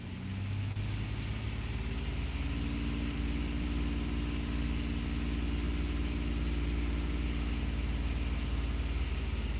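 A Ford F150 engine with a cam phaser rattle running steadily close by, a low continuous hum whose pitch steps up slightly a few seconds in as the RPM is raised, with no talking.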